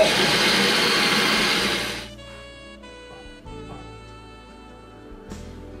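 A blender loudly whirs for about two seconds while mixing ingredients with one and a half bananas, then cuts off, leaving faint kitchen clatter and a low hum.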